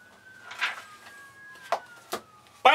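Police sirens wail outside a room, a thin steady tone drifting slowly downward in the distance for nearly three seconds, broken by a few nearby clunks and a sharp knock at the end.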